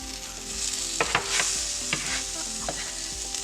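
Taco pizza filling cooking in a pan over a low flame, a steady gentle sizzle with a handful of spatula scrapes and taps spaced through it, close and clear with no voices.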